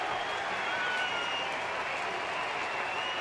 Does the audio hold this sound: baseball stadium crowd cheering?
yes